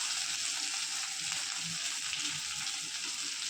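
Grated ginger with curry leaves frying in a pan for an Onam ginger pachadi, a steady close sizzle running unbroken throughout with no talk.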